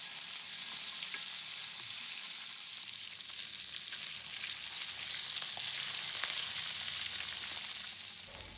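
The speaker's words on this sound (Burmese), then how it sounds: "ငါးကိုတော့ဟိုဘက်ဒီဘက်လှန်ပြီးကြော်ပေးလိုက်ပါတယ်" Pomfret fish frying in hot oil, flipped from side to side, giving a steady, dense sizzle with crackling pops throughout, close and continuous with no talking.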